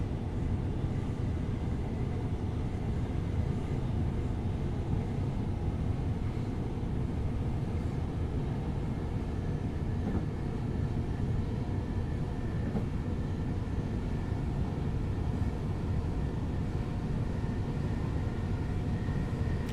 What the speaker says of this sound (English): I do like these Class 377 trains.